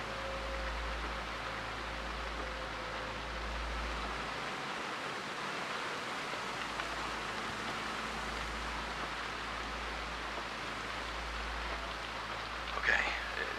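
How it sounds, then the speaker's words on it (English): Heavy rain falls outside in the video game Oxenfree II, a steady, dense wash of hiss under a low drone, with a faint knock near the end. "It's pissing rain out there and freezing."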